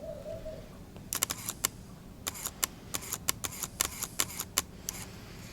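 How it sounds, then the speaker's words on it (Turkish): Rapid camera shutter clicks from a single press firing a seven-frame HDR bracketing burst, a quick run of sharp mechanical clacks spaced unevenly over several seconds, close and distinct over a quiet room background. "Tek bir kere deklanşöre basıyorum ve makinem ardarda arda 7 kare fotoğraf çekiyor."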